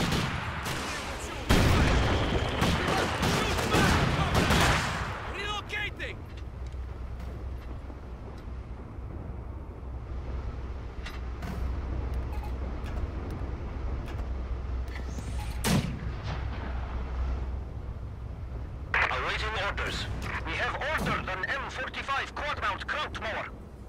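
Gunfire and artillery in Company of Heroes 2 during an urban fight: heavy blasts and bursts of shooting at the start and end, quieter rumbling battle between, with voices calling out over it.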